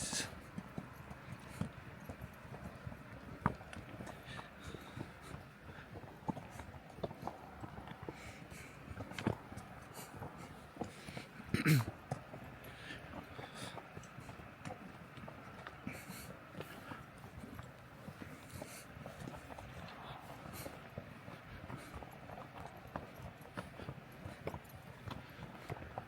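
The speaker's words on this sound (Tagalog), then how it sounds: "Behave lang naman yung mga kabayo" Horses' hooves clip-clopping along a mountain trail in Kazakhstan, an irregular series of soft hoof thuds and clicks over a long stretch, fairly close but quiet, with faint background noise.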